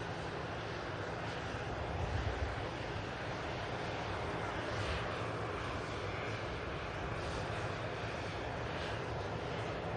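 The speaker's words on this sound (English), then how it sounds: "to make way for this rather large biz jet" A large business jet at Manchester Airport gives a continuous, broad engine roar that holds steady for the whole stretch, heard from a distance outdoors with wind-like rumble and no clear talk.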